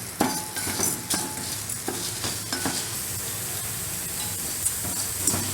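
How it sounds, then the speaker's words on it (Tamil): Coriander seeds roast in hot oil for a Tirunelveli-style bitter gourd theeyal. A continuous close sizzle runs under repeated sharp clinks and scrapes of a spoon stirring against the pan. "போட்டு மல்லியை கொஞ்சம் நல்லா வறுப்போம்"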